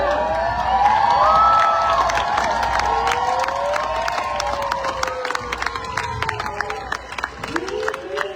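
A large outdoor rally crowd in Louisville, Kentucky cheers and shouts loudly and continuously, with whoops and scattered claps filling the air throughout.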